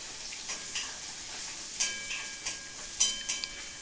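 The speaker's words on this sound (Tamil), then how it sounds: "ஓரளவுக்கு இது வதக்கட்டும்" Onions, dried chillies and curry leaves sautéing in a pan for pepper chicken, with a continuous close sizzle and irregular sharp crackles and pops popping through it.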